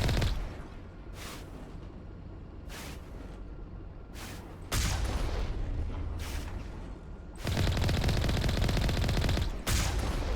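Gunfire in the video game Mass Effect 1, with repeated bursts of shots and rattling fire under steady game ambience, growing denser and louder toward the end, with short gaps between volleys.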